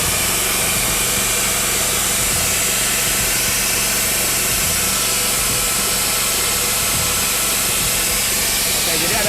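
TDR generator set running at close range, producing a loud, steady engine roar with a strong hissing, broadband quality that stays constant throughout.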